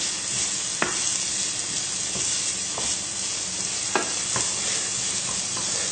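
Finely chopped onions frying in oil for a lamb mince dish, a constant bright sizzle with a handful of sharp spoon-against-pan scrapes at irregular intervals, close and clear with no speech.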